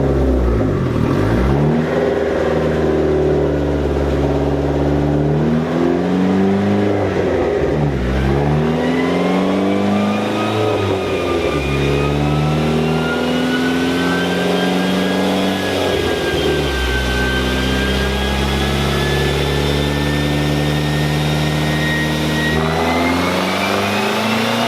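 A tuned car, an SRT-4 Neon or CTS-V, revs hard on a dyno and climbs through the gears, with a loud continuous engine note rising in pitch over the run and a few brief dips between gears.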